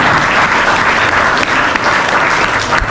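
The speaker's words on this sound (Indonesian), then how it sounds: "Kita beri tepuk tangan untuk Bu Nelly." An audience at a Ramadan fast-breaking gathering claps for Bu Nelly, loud, continuous and close, with no voices over it.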